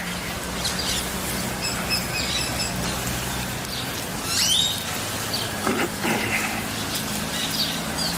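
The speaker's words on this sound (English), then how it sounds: "Listen to all the birds." Faint bird chirps and tweets scattered across a noisy outdoor background in Puerto Vallarta, with a few brighter calls standing out now and then.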